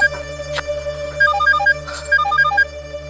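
A mobile phone ringtone rings loud and close, a bright melodic phrase of quick beeping notes repeated twice over a steady electronic hum.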